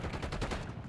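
Rapid automatic gunfire in Call of Duty, a dense burst of fast repeating shots rattling in even pulses, loud and continuous for under a second.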